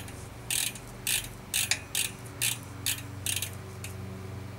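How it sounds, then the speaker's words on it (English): A SRAM GX 10-50 tooth cassette is fitted onto a mountain bike freehub, making a series of about eight short, crisp ratcheting clicks at a steady rhythm against a low background hum, close by. "screwing on the new SRAM GX cassette, which is the 10 to 50 tooth model"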